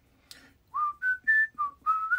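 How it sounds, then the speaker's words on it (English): A person whistles a short melodic phrase of several sustained notes, clear and close, with no talking. "I better start whistling, they're gonna sue me."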